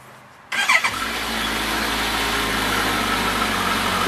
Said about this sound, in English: You want to start your bike up.